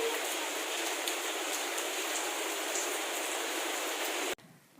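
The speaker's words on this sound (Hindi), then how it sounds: "ये रही जी मेरे मम्मा के घर की बारिश, जो कि मैं बहुत ज़्यादा इंजॉय किया करती थी।" Steady, dense rainfall at a family home hisses evenly for several seconds, close and continuous, then cuts off abruptly near the end.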